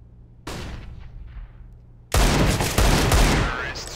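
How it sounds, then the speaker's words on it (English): In a 2018 Counter-Strike match, a flashbang grenade bursts, then a louder dense burst of gunfire fills the last two seconds, both close and harsh. "Flashbang."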